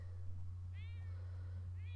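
A cat in The Sims 4 gives two short rising meows about a second apart, clear over a low steady hum of game background sound.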